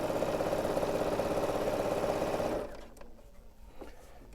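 A 7 series sewing machine stitches fabric with a fast, even mechanical whir and rapid needle ticking for a couple of seconds, close and loud, then stops, leaving a few quiet handling clicks.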